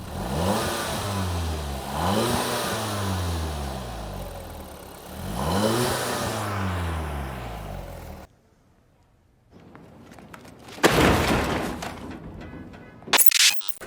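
A car with no induction kit revs its engine hard in repeated rising and falling sweeps, loud and close, followed by a pause and a few sharper bursts.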